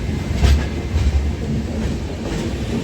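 The 12861 Visakhapatnam–Mahabubnagar Superfast Express heard from inside, running steadily near Vijayawada with a loud continuous rumble and rhythmic clickety-clack of wheels over rail joints.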